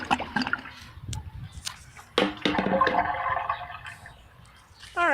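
A homemade toilet set up outdoors flushes with a sudden rush of water that continues as a steady, fairly loud gurgling drain over a faint background hum.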